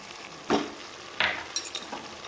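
Drumstick vegetables and mustard paste being stirred in a pan, two distinct scraping strokes with a faint sizzle between them and a few light clinks near the end.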